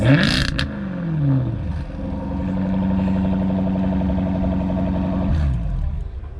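A Jaguar F-Type R engine fires up with a loud whoop, settles briefly and then idles in a steady, close rumble before a final blip near the end.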